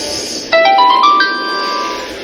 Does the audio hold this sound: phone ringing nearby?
yes